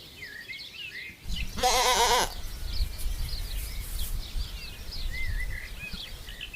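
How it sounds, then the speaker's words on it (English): A sheep gives a loud, wavering bleat, then fainter bleats and bird calls come through over the low, rumbling gusts of wind. "the bleating of sheep is just about audible over the gusts of wind"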